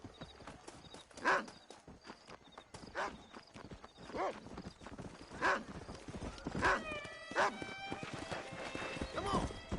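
Horse hooves clip-clop at a steady walking rhythm in the Red Dead Redemption video game, fairly close, with a neigh and character voices talking over the hoofbeats.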